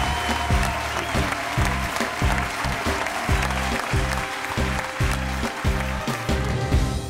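Steady, loud audience applause for a nervous veteran singer on a French music television show, with rhythmic low thumps running beneath the dense clapping throughout.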